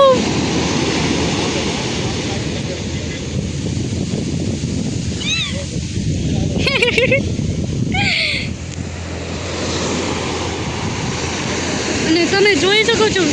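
Sea waves wash onto the shore in a continuous, broad roar that swells and recedes, with people talking over it nearby.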